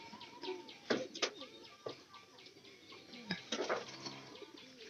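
Pet pigeons in a loft coo and flutter nearby, low calls mixed with sharp bursts of wing flapping and scuffling, one bird with an eye problem among them; no one speaks.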